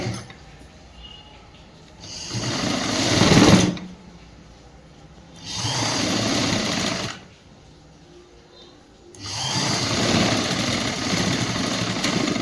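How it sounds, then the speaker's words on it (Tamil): A sewing machine stitches the bottom hem of a school uniform blouse in three bursts, each about one to two seconds long, with quiet pauses between them. The whirring is steady and close. "இப்படி அடியில் மட்டும் ஒரு தையல் போட்டுக்கணும்."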